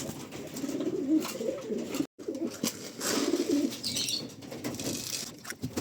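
Pigeons coo repeatedly in low, throaty bursts while feeding, close by, with occasional wing flutters and faint chirps mixed in, at a pigeon show in Bacoor, Cavite.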